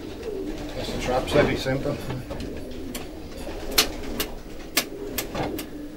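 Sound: pigeons cooing in a loft

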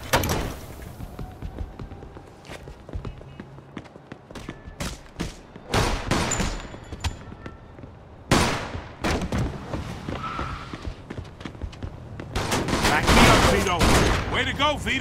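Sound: machine gun fire in the video game Mafia II

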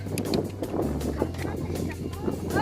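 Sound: strong wind blowing

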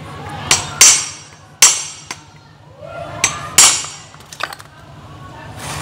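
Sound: hammering to remove a wood-cutting machine's magneto flywheel

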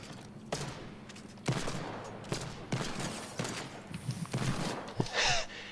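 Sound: hand cannon gunfire in a video game

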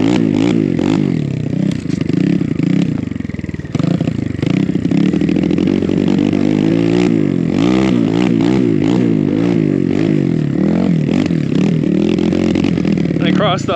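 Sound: enduro dirt bike engine running in cold snow

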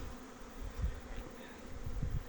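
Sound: honeybees buzzing at hives on spring cleansing flights

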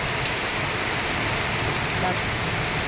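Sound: rain

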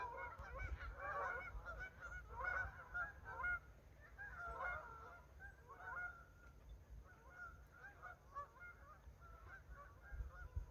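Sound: geese honking in flight

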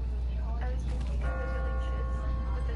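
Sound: church bell ringing in The Walking Dead video game

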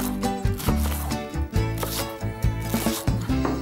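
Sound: chopping leeks into pieces

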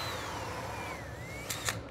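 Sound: power drill drilling through glass piece

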